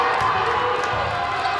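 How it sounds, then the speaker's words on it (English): Spectators at a girls high school basketball game between Homestead and South Bend Washington in Fort Wayne, Indiana, stand and cheer as a broad, steady roar filling the gym with dense crowd noise throughout. "The crowd on their feet."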